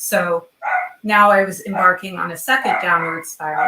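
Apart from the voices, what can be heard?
dog barking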